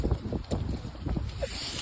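Wind gusting across an open outdoor spot, a steady broadband rush with buffeting low rumble against the microphone, continuous and fairly loud throughout the short stretch, no voices.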